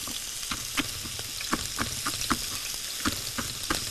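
Onion sizzling in heated oil in a home kitchen, a steady close frying hiss broken by irregular sharp crackles and pops across the few seconds.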